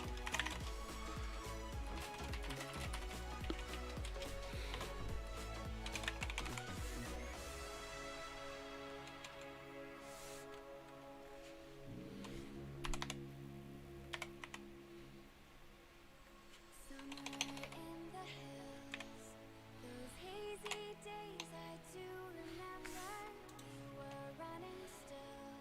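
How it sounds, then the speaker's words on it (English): Someone typing a message on a computer keyboard, scattered quiet key clicks and taps that come and go over a long stretch, close, heard beneath louder background sounds. "Just gotta type out a message to someone."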